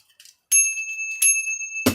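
A bright bicycle-style bell rings twice as a sound effect, with clear sustained metallic tones that fade out, followed by a brief burst of noise at the end.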